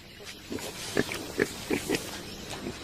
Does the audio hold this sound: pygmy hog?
yes